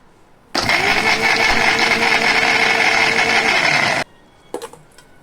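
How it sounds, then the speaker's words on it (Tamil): An electric mixer grinder grinding peanuts and jaggery runs in one loud, steady whirring burst of about three and a half seconds, then cuts off, followed by a few light clatters. "வெல்லமும் நம்ம மிக்சியில் போட்டு எடுத்துக்கலாம்."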